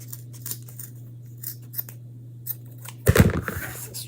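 Scissors snip through a craft garland in a single sharp, close cutting burst after several seconds of quiet handling noise over a steady low hum.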